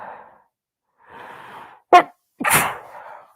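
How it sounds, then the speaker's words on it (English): A single sharp human sneeze bursts out loud and close, preceded by a couple of soft breathy inhales and followed by a brief exhale. "I gotta sneeze."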